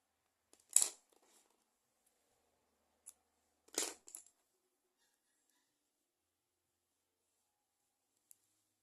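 Scissors snipping crochet yarn: a few short, sharp, close cuts with quiet gaps between them, and a faint tick at the end.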